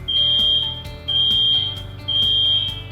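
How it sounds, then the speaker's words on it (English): A building fire alarm sounds in a corporate facility, three loud, shrill electronic tones in a steady repeating pattern, each lasting about half a second, close and alone with no talk. "In the event of an emergency, the alarm will sound."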